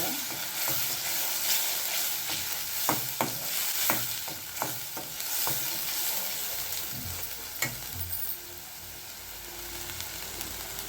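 Spices sizzle in hot oil while a utensil scrapes and clacks against the pan in irregular strokes, a continuous frying hiss underneath.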